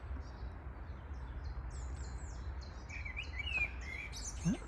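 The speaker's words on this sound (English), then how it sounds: "That's a blackbird." A blackbird sings in a garden by a greenhouse: bright, fluting phrases and chirps rise over steady outdoor background noise, growing clearer and more varied in the second half, with other small bird calls scattered throughout.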